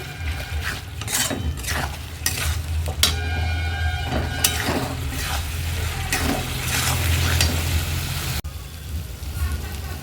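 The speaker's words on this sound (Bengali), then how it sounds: "খুব ভালোভাবে কষিয়ে নেব মশলাটা" Spice masala with turmeric, salt and red chilli powder fried in oil, giving steady close crackling and scraping of a spoon through the paste, with repeated clinks and a low background hum.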